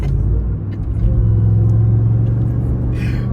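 A Ram TRX pickup truck rolls along a road, its engine giving a steady, loud low rumble throughout with a sustained droning note in the middle.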